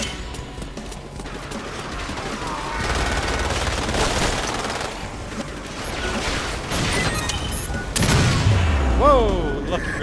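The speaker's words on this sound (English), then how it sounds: "Lucky grenade got me." A grenade explosion in the multiplayer shooter Resident Evil Umbrella Corps, with dense gunfire and mechanical clatter throughout and a heavy blast near the end.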